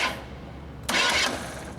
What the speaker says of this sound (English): when you're starting your car, you want to listen and not over crank this thing